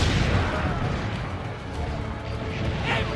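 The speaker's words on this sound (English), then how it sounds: "Aim for the cannon, signore!" Cannon fire booms in the video game Assassin's Creed: The Ezio Collection, a loud, rumbling blast with a dense low-end roar that fades slightly, then swells again.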